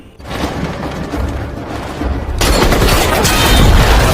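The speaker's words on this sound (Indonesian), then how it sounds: "Di saat tembak-menembak sedang berlangsung" Sustained heavy gunfire from a sniper war film's firefight, a dense, continuous roar of shots and booms that grows louder midway and stays intense, with no talking.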